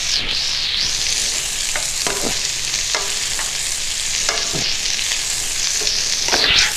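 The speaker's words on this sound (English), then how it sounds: "We're going to put a good bit of butter in, maybe something like that. And we just want to melt that down." Butter melting in a hot pan while shrimp pasta is prepared, giving a steady broadband sizzle throughout with a few soft clicks of a utensil stirring against the pan, close and continuous with no talking.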